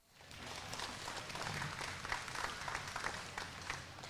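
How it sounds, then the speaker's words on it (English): Applause for livestock showmen fills a county fair livestock arena, a soft, diffuse patter of many hands clapping from across the ring, fading in and then holding steady at a moderate distance. "Let's go ahead and give all these showmen a big round of applause."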